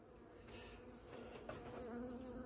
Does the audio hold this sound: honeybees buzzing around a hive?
yes